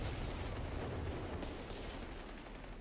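Cannon barrage in the Company of Heroes 3 video game, dense rumbling booms of artillery fire in a heavy, continuous wash with no voices over it.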